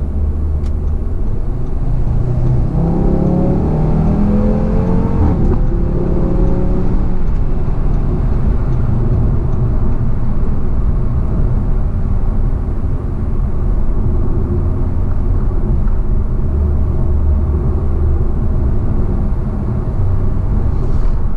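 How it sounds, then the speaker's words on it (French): A 400-horsepower Audi RS3 sedan engine revs up under acceleration, its loud, close drone rising in pitch early on and then holding a strong, steady roar. "Là on va pouvoir accélérer un petit peu."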